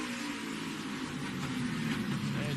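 Race cars roaring in a tight three-wide pack on the Charlotte Roval during the 2018 Bank of America Roval 400, the No. 11 car's rear wheels hopping and banging into a bumper amid steady, loud engine drone.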